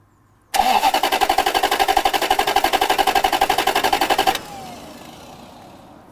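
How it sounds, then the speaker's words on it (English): A barn-find 1990s V8 luxury car with about 11,000 miles cranks on its starter for roughly four seconds in a fast, even rhythm without catching, then cuts off and leaves quiet room noise. "It's cranking all right though. It's cranking really nice."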